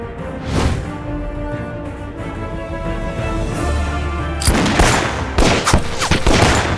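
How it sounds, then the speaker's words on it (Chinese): Gunfire in a war film set during the anti-Japanese war: a rapid barrage of sharp shots and bursts over a tense musical background, growing denser and louder toward the end. "言而无信，敢在老子开枪！"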